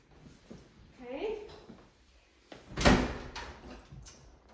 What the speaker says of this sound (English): I like the doors here, so if you need to close them up.